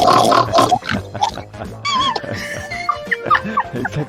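A person imitates a pig with a string of snorting grunts and oinks, loud and close, in a comedic French radio-style segment, with squeals and laughter-like noises mixed throughout.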